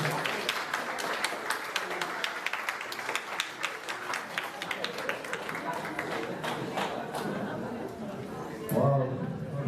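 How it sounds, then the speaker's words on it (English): A large audience at a peace walk and forum in Derry, Ireland claps in sustained, dense applause that fades out near the end, with some crowd chatter mixed in. "Big round of applause again for Amy and Linda"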